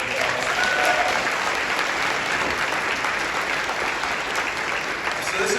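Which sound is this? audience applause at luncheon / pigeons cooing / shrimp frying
audience applause at luncheon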